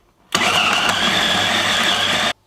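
Food processor chopping garlic and fresh basil leaves for a salsiccia hot dog, one loud steady whirring spin of about two seconds that starts and stops abruptly.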